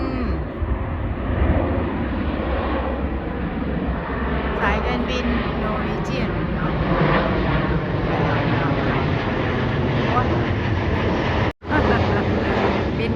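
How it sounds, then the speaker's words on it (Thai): An airplane passes overhead on a foggy morning as a continuous broad roar that swells and holds, mixed with wind buffeting the microphone, with a brief dropout near the end. "เครื่องบินกับมาแล้วพี่น้อง"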